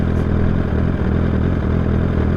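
A loud Honda CBR1000RR SP1 sport motorcycle engine with a full Yoshimura exhaust and no catalytic converter idles with a deep, rough, throbbing exhaust note, steady and close.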